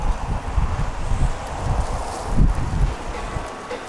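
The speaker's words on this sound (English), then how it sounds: "Not that that wind's really gone yet, but I had to hold my camera down." Strong gusts hit a camera microphone in low, uneven rumbling bursts after a storm over a garden of hardening-off seedlings, swelling and easing across a few seconds.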